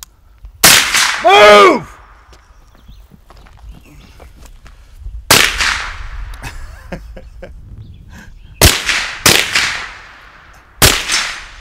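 Sharp, loud gunshots from a 10/22 rifle crack out in separate bursts, a close double shot followed by spaced single and paired reports, mixed with footsteps and a shouted command in an outdoor fight drill.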